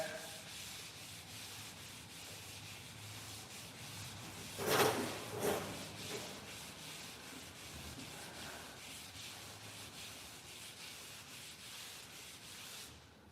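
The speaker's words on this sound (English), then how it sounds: "I'll wet sand it." Wet sanding on a Dodge Dart car body, a steady soft rubbing hiss that runs throughout, with a couple of louder scrubbing strokes near the middle.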